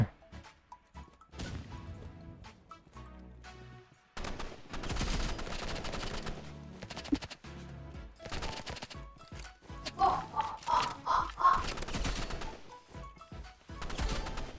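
Gunfire in a Roblox shooter match: scattered single shots and short bursts, some sharp and close, with rapid chattering volleys late on, mixed with game effects and no talk.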